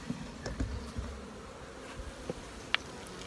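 A soft, steady honeybee buzz hums close by at an open hive with a few faint clicks and light knocks, no talking.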